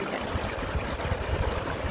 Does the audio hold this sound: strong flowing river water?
yes